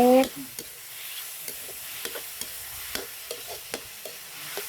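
Egg stir-fried with cucumber and tomato in a pan, heard as a soft, low sizzle under a steady series of short spatula scrapes and taps against the pan.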